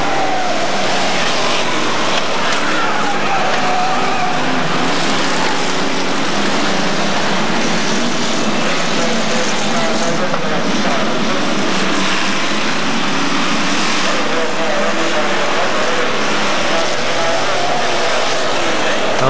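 Hotstox race cars roar around the Skegness oval, a loud continuous blend of engines heard over a commentator talking throughout.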